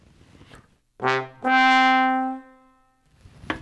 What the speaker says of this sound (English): I hear that low note jumping up to the high note.